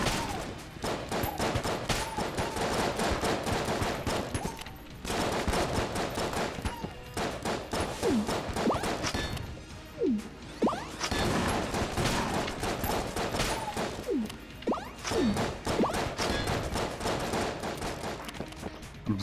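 Rapid gunfire fills the video game Enter the Gungeon, with dense bursts of shots running almost continuously, loud and busy, broken by a few short pauses and some brief whooshing effects.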